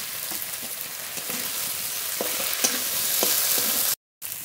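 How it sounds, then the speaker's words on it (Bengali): Fried puti fish dropped into frying spice paste sizzles steadily, with scraping stirs and small clatters over the continuous hiss and no talking. "ভেজে রাখা পুঁটি মাছ দিয়ে দেবো।"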